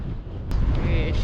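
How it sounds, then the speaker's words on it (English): Strong wind gusting outdoors during a bicycle tour, buffeting the microphone with a deep, constant low rumble and roar, close and fairly loud throughout the brief moment. "Really windy suddenly."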